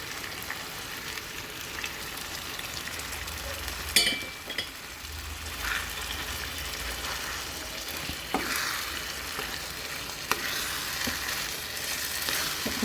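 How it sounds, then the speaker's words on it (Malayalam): Cooked mutton goes into a sizzling masala for biryani, with a steady moderate frying hiss and a few soft clinks and scrapes as it is stirred. "ഇനി ഇതിലേക്ക് വേവിച്ച് വെച്ച് മട്ടൻ ചേർത്ത് കൊടുക്കുകയാണ്."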